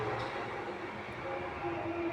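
Passenger train heard from inside a carriage, a continuous close rumble and rattle of the wheels with faint squeals, steady throughout and without talk.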